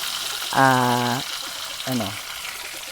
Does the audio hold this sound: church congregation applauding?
no